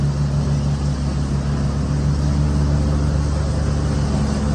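A tractor engine runs steadily at close range, a loud, even low-pitched drone and throb that holds without change from start to finish, with no voices.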